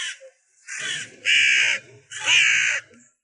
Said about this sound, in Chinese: 我嫌乌鸦吵